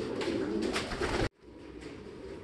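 A racing pigeon at a loft landing board gives soft cooing calls over steady background noise, with a sudden brief drop in sound partway through.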